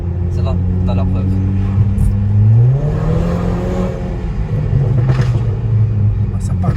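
A modified Audi A5 pulls away hard, its engine rumbling loud and rising in pitch as it accelerates, with people talking over the steady roar.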